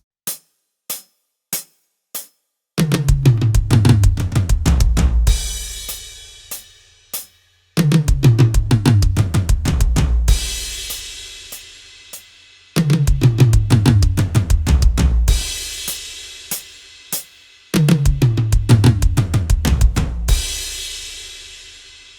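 A drum fill played at full speed on a drum kit, opening with a few sharp count-in clicks, then repeated four times as rapid bursts of snare, toms and bass drum ending in a crashing cymbal that rings out, loud and close.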